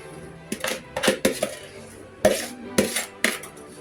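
A metal utensil scrapes and taps against a baking pan while spreading apple crisp mixture, giving about seven sharp clinks in an uneven rhythm, close and clear with no talk over it.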